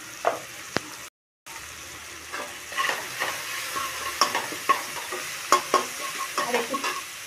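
Fish curry of falui fish sizzling in hot oil in a pan as salt and turmeric go in, with steady frying hiss and repeated scraping stirs and clinks close by, no talk.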